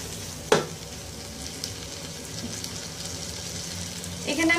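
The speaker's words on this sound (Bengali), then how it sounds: "এটাকে হালকা একটু নেড়ে এর মধ্যে আমরা আলুগুলো দিয়ে দেবো।" Cubed potatoes, 500 grams, hit hot oil with cumin powder and other spices and sizzle steadily while being stirred, with a sharp burst at the start and another surge near the end.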